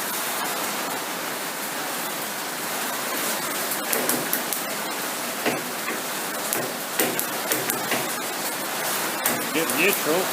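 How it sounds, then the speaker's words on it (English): Steady rain falls outside a machine workshop, a dense continuous hiss with scattered sharper ticks and taps over the wash, fairly loud throughout. "You can hear the rain coming down outside."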